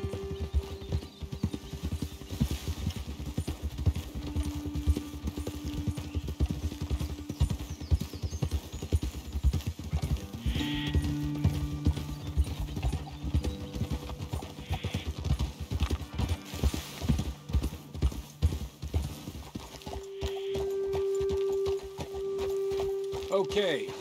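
Horses galloping in Red Dead Redemption 2, a dense, driving drumming of hooves close by, with occasional whinnies and a voice talking over the hoofbeats.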